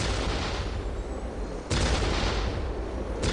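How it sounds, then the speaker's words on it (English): Orc artillery pounds away in the video game Dawn of War, a steady roar of heavy fire with two sharp, loud blasts breaking through, close and dense, with no voices over it. "We will silence that Orc artillery."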